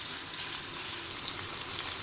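Italian sausage sizzling and frying steadily in a pan, a dense continuous hiss and crackle held close throughout with no talk.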